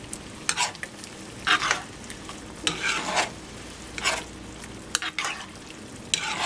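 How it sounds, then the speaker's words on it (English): Chicken marsala sauce being stirred in a pan, with intermittent scraping and sizzling strokes in short bursts over a quiet simmer, fairly faint and without speech. "you want to go ahead and mix that all up"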